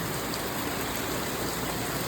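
Evening rain pours down steadily in the Philippines, a continuous broadband patter and hiss that stays fairly loud and unchanging throughout.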